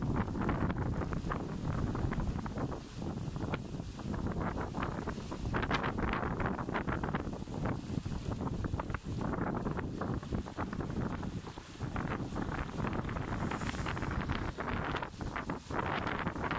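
Strong wind of up to 20 knots buffets the microphone aboard a 2018 D&D Kufner 54 sailing yacht, a loud, continuous roar with gusting rustle that fills the whole stretch.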